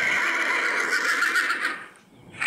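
A horse gives a drawn-out whinny that holds steady and loud, then dies away into a brief lull before noise returns; no talking is heard.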